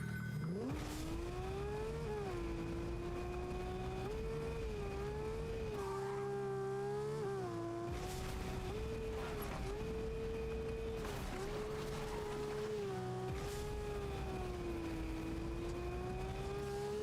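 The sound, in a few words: car engine driving in Fortnite video game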